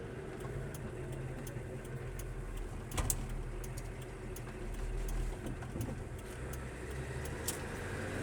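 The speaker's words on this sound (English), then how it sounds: "this one with the windows shut is a relatively quiet drive." A 1987 Volkswagen LT35 Westfalia campervan drives with its windows shut, a steady low engine hum and road rumble inside the cab, fairly quiet, with a small bump partway through.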